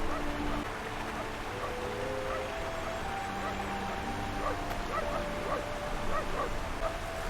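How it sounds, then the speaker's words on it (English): In the PC game Syberia 2, a dog yips, barks and whimpers in short bursts over a soft wash of background sound and faint tonal music, moderately close and continuing throughout. "That dog does exactly as it pleases."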